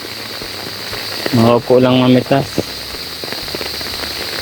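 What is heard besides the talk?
heavy rain falling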